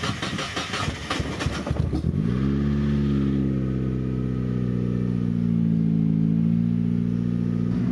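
A turbocharged Mazda Miata running at 9 PSI starts and settles into a steady, loud, close idle with a deep harmonic drone. A short mechanical churn comes first, then the engine catches.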